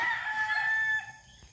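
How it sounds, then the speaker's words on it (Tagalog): A rooster crows in a long, strained call that carries and then trails off, heard from a moderate distance with faint background noise, in rural Camarines Norte, Philippines. "Ayan ang mga manok."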